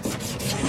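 Steady abrasive rasping of sanding on body filler on a Volkswagen Corrado's car body, a continuous close scrubbing texture with no talking over it.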